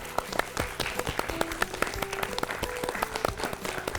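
Scattered applause from a small studio audience at a Hindi children's quiz show on dental care, with individual claps standing out over a light background of voices and other sounds.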